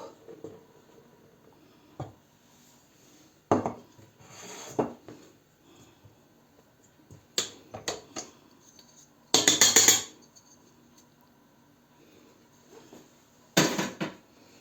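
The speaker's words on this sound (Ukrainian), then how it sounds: "будемо умішувати потроха муку" Quiet scraping and knocking of a spoon working flour into cookie dough in a bowl, in scattered short strokes with pauses between.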